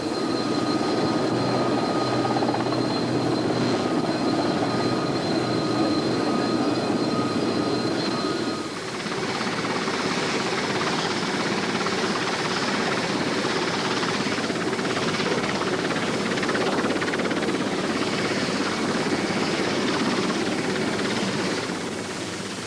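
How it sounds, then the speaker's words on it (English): A Falklands War helicopter's steady engine and rotor drone, loud and continuous, with a slight shift in tone partway through. "The helicopters began the shuttle."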